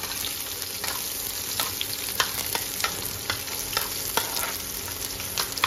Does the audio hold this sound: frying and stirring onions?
yes